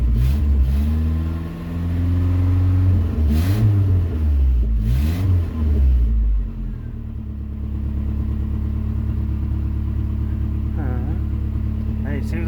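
Boosted Nissan D21 Hardbody engine idles steadily at close range, with deeper rises as it is revved a few times early on; someone talks over the engine throughout.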